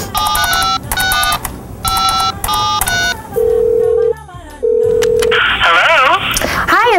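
Old yellow telephone being dialed: short bursts of push-button tones in quick groups, then steady held tones and a ringing line, loud and close with faint voice-like sounds near the end.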